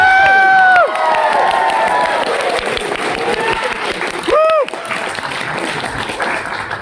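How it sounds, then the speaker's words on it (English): Convention audience at a BABSCon comic book reading bursts into applause and cheering for Ellie Rose, a dense, steady roar of clapping with a few high whoops and a voice rising briefly over the crowd. "let's give a big round of applause for Miss Ellie Rose"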